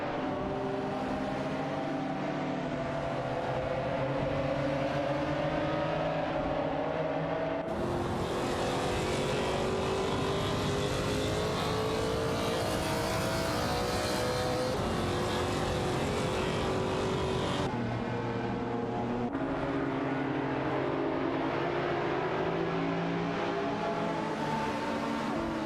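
Race car engines roar continuously in the racing video game Live for Speed, loud and close, their droning pitch rising and falling with gear changes and abrupt shifts as the view jumps between cars during overtakes.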